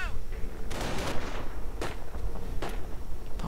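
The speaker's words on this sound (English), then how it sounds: "Pioneers are coming under fire, they need to retreat." Gunfire in a World War II real-time strategy game, rapid overlapping rifle and machine-gun bursts and a few sharper cracks, heard under a commentator's voice.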